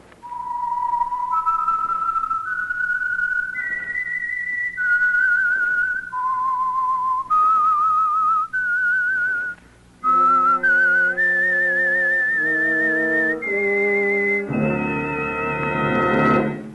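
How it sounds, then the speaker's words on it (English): A whistled signal tune opens The Whistler radio mystery program, a clear solo melody of sustained notes rising and falling, then joined by fuller orchestral chords toward the end. "That whistle is your signal for the Signal Oil Program, The Whistler."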